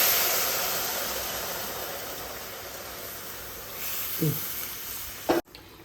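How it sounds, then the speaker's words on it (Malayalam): Water poured into a hot pan to cook rava biryani sends up a broad sizzling hiss that slowly fades, followed by a couple of brief clunks near the end, close and with no voices. "നമ്മൾ ഉള്ളിലേക്ക് വെള്ളം ഒഴിക്കുന്നു"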